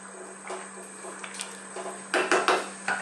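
A metal lid clanks onto a pot of Jamaican chicken curry with potatoes, making a short cluster of loud rattling knocks over a steady electrical hum and faint kitchen clatter.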